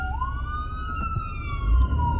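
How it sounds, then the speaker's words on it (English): An emergency vehicle siren wails outside, one long rising-and-falling tone sweeping steadily and fairly loud against low traffic rumble, with no talk heard. "Excuse the sirens."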